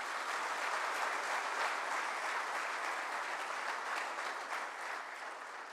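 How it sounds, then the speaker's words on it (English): Sustained applause from the audience at a formal memorial lecture, steady and even throughout with dense clapping that tapers slightly toward the end, no voices over it. "I request the August gathering to give a big round of applause to the speaker"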